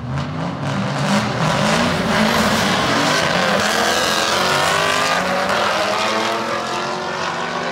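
An LS-swapped turbocharged Mazda Miata roars loud and close at a drag race, its engine holding a steady heavy drone throughout with little pause.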